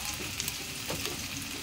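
Garlic sizzling in a frying pan for garlic fried rice: a close, crackling fry hisses steadily with small pops and faint stirring scrapes, heard alone without speech.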